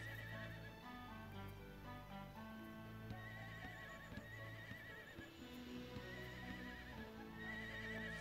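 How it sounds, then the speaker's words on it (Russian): Horses in the zoo video game Zoo 2: Animal Park whinny and neigh repeatedly over steady clip-clop hooves and a continuous musical backdrop, fairly quiet overall with no talking. "Тут лошадки у нас."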